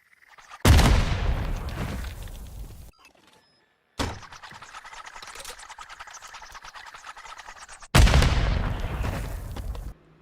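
Gunfire in Modern Warfare III, three heavy thumping blasts each trailing into a rumbling decay, with a quieter rattling stretch between them, close and loud.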